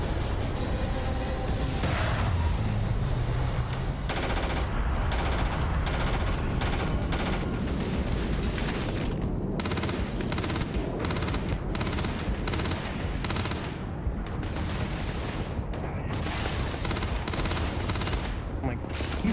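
Gunfire in Starfield, dense volleys of shots firing continuously and loud, with sharp cracks and brief gaps throughout.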